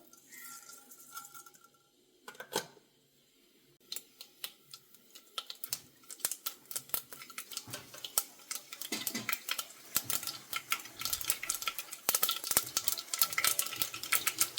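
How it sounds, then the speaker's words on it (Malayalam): Mustard seeds pop and crackle in hot oil, starting sparse and building into a dense, rapid spatter of sharp ticks. "കടുക് പൊട്ടി വന്നിട്ടുണ്ട്."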